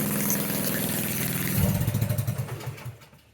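A cheap Amazon go-kart engine idles with a steady, buzzy drone. Midway it settles into a loping, rhythmic putter that fades out at the end, close and without speech.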